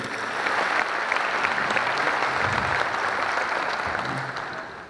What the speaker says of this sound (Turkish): Bu alkışlar onlara güç versin.